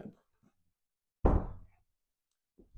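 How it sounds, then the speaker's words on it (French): An interior door swings shut in a large master bedroom of a house, a single solid thud with a short decaying rumble, close and loud, with quiet speech fragments before and after. "Je vais fermer la porte."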